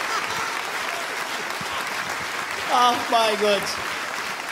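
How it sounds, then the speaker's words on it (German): A studio audience at a German late-night comedy show gives warm, sustained applause to welcome twin brass players as guests. The clapping stays dense throughout, and a voice exclaims briefly over it partway through. "Begrüßen Sie mit einem ganz warmen Applaus die eineigen Zwillinge, die Bläser der Familie Popolski"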